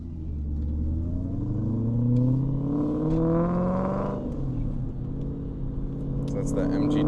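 A 2011 Mustang GT with a Whipple-supercharged 5-liter V8 runs and pulls through rising revs, its engine note climbing steadily and loudly, with talk over the top.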